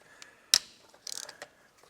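A ratchet clicks close by while undoing the final bolt on a Subaru, with a sharp metallic snap followed by a quick run of ratcheting clicks and a last tick, with no talk.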